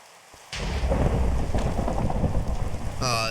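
A thunderstorm breaks in a survival challenge: heavy rain starts suddenly and a deep rumble of thunder rolls underneath. The downpour is loud and steady, and a sharper crack comes near the end.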